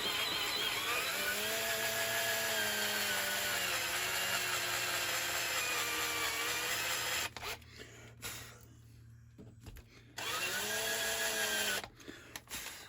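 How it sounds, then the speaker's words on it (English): A power drill whines steadily at high pitch while drilling metal on a Triumph 955i motorcycle gear selector ball joint, its tone dipping under load, then stops for a few seconds before spinning up again. "I'm going to go then for a larger drill."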